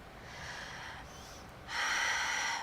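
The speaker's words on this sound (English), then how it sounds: "And take a deep inhalation. And exhale. Make your breath visible, whether it's louder" Deep, slow Pilates breathing during a mat workout: a soft, airy inhale followed by a pause, then a fuller, louder exhale, close and clear with no talking.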